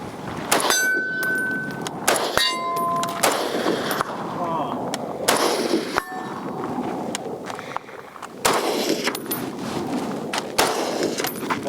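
Springfield Armory M1A SOCOM 16 rifle fired at steel targets outdoors, loud sharp shots spaced a second or two apart, each followed by a faint distant ring of steel.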